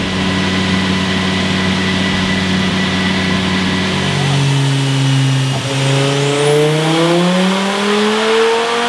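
Car engine on a dyno in a 2.5-litre MK3 build, droning loudly under steady throttle, then briefly let off and opened up again so the pitch dips and climbs back in a rising rev sweep.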